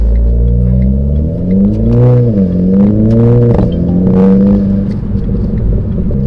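A Renault Clio RS fitted with a Powerflex lower torque mount pulls away, its engine droning loud and close, rising and dipping in pitch as it moves off.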